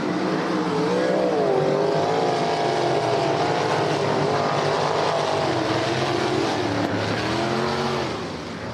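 Sprint cars race around the Ohsweken Speedway dirt oval at the Canadian Sprint Car Nationals, a loud continuous pack of roaring engines with rising and falling pitch sweeps as they circle the track.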